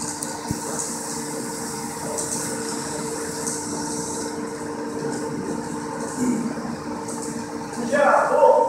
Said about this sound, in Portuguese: o gerador já está girando a 1800 RPM